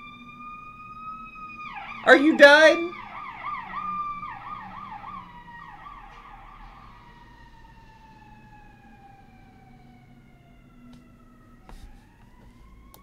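Siren from The Sims 4 game rises and falls in a wailing pattern that fades out over several seconds, mixed with a short burst of speech and other game sounds.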